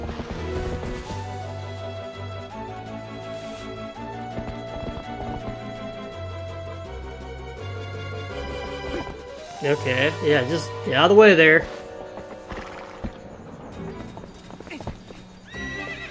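Epona, the horse in the video game Zelda: Twilight Princess, clip-clops along over game music, then lets out a loud neigh partway through while a player talks over the game audio.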